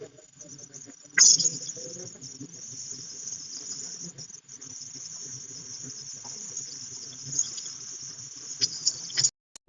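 Whole chicken pieces sizzling in hot oil with browned onions for Kuwaiti traditional chicken majboos, a steady, close, hissing fry that runs throughout with a few clatters and faint speech.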